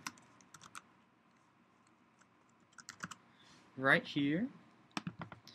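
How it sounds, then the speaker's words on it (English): A computer keyboard is typed on in scattered clicky keystrokes, some isolated and some in short quick bursts, while a person speaks briefly in the middle. "So I'm going to just type something"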